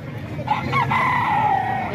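Banded roosters in San Jose del Monte, Bulacan crow in a rising then long drawn-out call, fairly close, over steady background farm noise.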